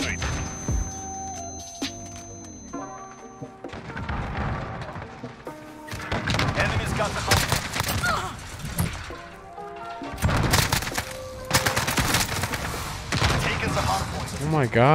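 Flashbang blasts and gunfire in Call of Duty Modern Warfare, a multiplayer hardpoint match with AK-47 use, heavy bursts and booming crashes packed densely through the middle and end, mixed with game sounds and a player talking.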